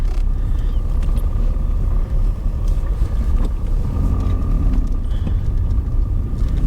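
A BMW 320d diesel car, cheaply bought and with something wrong with it, runs with a steady low engine rumble heard from inside the cabin, continuous and fairly loud throughout.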